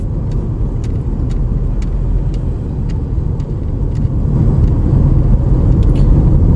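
A motorcycle with bald tyres ridden hard on a Malaysian road, its engine droning steadily and swelling louder near the end, heavy low rumble filling the stretch with no talk.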